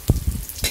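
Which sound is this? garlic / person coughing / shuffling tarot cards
garlic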